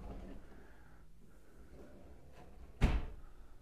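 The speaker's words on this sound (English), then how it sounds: "Huge drawer right here." A large drawer in a modular home's kitchen is opened or shut with a single solid thump near the end, after quiet room tone.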